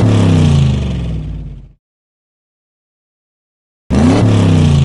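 Cartoon-style sound effect of toy cars driving by, a loud engine-like whoosh that fades out after under two seconds, then silence before it returns loudly near the end.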